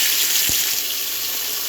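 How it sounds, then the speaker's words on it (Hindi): About four large tomatoes go into browned onions in a pan for kofta curry, giving a steady, close sizzling hiss with a single soft low thump near the start and no talking. "अब हम इसमें डालेंगे टमाटर"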